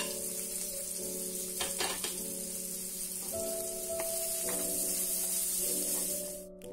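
Onions and garlic in hot oil for a Kerala veg samosa filling sizzle in a steady, close, hissing fry, with occasional stirring clinks from a spoon in the pan.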